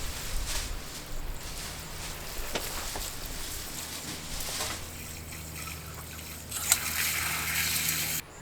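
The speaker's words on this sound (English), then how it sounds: "now I'm gonna go ahead and fill it with, spray it down with some water" A hose sprays water onto concrete bags at a mini split installation, giving a soft, uneven trickling and splashing that shifts in intensity, with a brighter burst of spray near the end.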